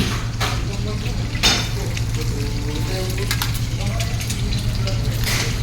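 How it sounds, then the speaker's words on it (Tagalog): Sisig frying in a pan aboard a ship while a utensil stirs it, a steady sizzle with occasional scraping knocks and people talking nearby. "Haluin na muna natin yung sisig."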